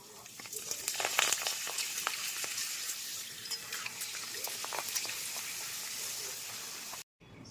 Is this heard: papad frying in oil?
yes